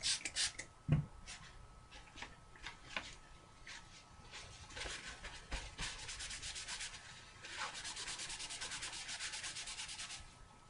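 Soft, repeated scrubbing strokes of a baby wipe rub across watercolor-painted paper, quiet and close, with brief bumps and a faster rhythmic stretch near the end; no voices.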